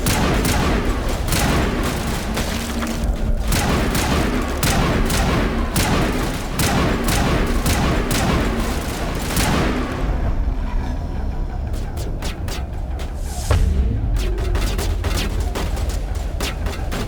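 Grenade blasts and bursts of gunfire from the video game Mass Effect rattle through a dense, loud firefight, with rapid repeated shots and heavy thumps continuing throughout.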